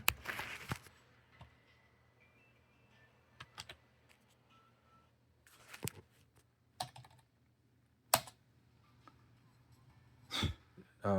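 Clicky key presses on an external keyboard connected to a Lenovo Legion Go handheld, coming in scattered bursts and single taps over a low steady hum, close and fairly quiet.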